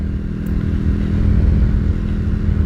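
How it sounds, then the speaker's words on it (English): A budget bobber motorcycle engine with a modified carburetor slide runs close by with a deep, steady rumble and slight rise in revs, rattling faintly throughout. "Revs up noticeably quicker."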